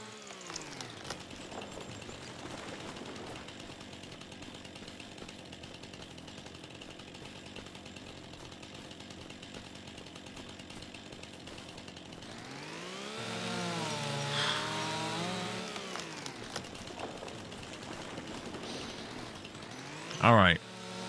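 A chainsaw in the video game Farming Simulator 25 cuts through deadwood, its engine droning steadily and then rising and bogging as the blade bites in near the end, with talk heard over it.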